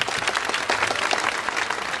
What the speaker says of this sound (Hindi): तो इस बात पे तो ताली बजा दो यार।